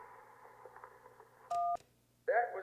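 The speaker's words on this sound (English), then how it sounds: "That was someone tearing up an electric bill." An electric bill tearing is rendered as a rough, papery rasp with small bursts, squeezed through a narrow radio filter in a video game. A short keypad tone follows, then a voice speaks.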